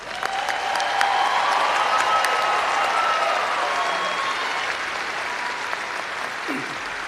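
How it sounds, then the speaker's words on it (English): A hall full of people claps for newly hooded veterinary doctors at a graduation ceremony, a loud, sustained wash of applause that swells early and holds steady before easing slightly. "let's give our new doctors another round of applause"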